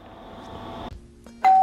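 Notification bell sound effect: a bright single electronic ding that rings out sharply at the end after a brief hum and pause, loud and alone without voices.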